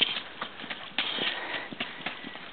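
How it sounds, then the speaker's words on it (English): A trotting horse pulling a sulky during exercise, with quick, rhythmic hoof clops on the ground, moderately close and fairly faint over a steady background hiss. "This is Eddie giving his horses exercise"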